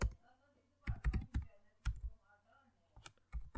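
Router configuration commands typed on a computer keyboard, a few quick clusters of close, crisp key clicks separated by short pauses, with faint speech in the background.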